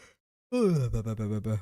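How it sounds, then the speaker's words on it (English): A single drawn-out human yawn, close and clear. It starts with a deep breath in, then falls into a lower, wavering groan with a few breathy pulses before it ends. "Did I make you guys yawn by yawning?"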